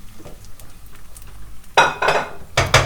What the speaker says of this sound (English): So I'm adding my onions without waiting the oil gets really hot.